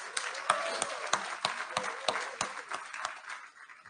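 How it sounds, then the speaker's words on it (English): Applause from an outdoor crowd at a park announcement event in Detroit, heard as a faint, sparse scatter of hand claps over about four seconds. "Can I get a round of applause for that?"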